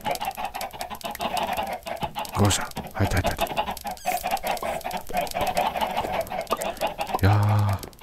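Minecraft chickens clucking throughout as a busy, dense layer of short clucks, with a brief low thump partway in, a louder burst near the end, and a person speaking over the flock.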